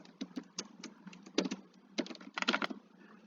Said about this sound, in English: Sorry if I'm making some typo, typing really fast.